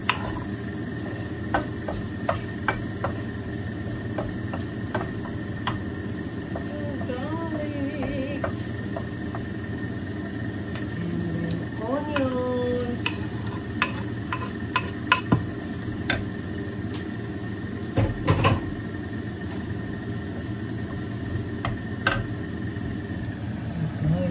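Garlic frying in a pan, a low continuous sizzle with scattered small pops and occasional utensil clinks, over a steady background hum.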